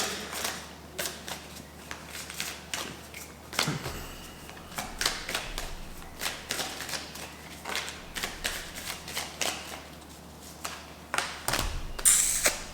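Tarot cards being shuffled by hand, a rapid run of crisp riffling clicks and soft slaps close by, with brief pauses and a few louder flutters near the end, no talking.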